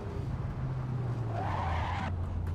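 A Mazda MX-5 in the Assetto Corsa racing game on the Union Island map skids under braking, a steady engine drone joined by a rising tire squeal that cuts off after about two seconds, with no one speaking.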